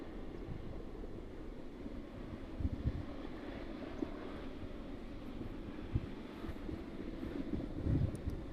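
Jet airliner taxiing at East Midlands Airport, a steady low engine rumble with wind buffeting the microphone, held at a distance across the whole span with a few louder gusts.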